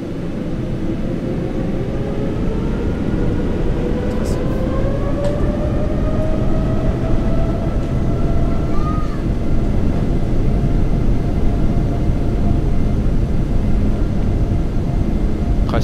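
Jet engines of a Boeing 787 roar through the cockpit during the takeoff roll on a very short runway at Mayotte, a heavy broadband rumble with rising whining tones that climb steadily and stay loud throughout.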